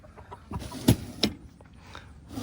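Chickens in a coop give a few scattered clucks, one sharper and louder near the middle, against a quiet, faintly noisy barn background.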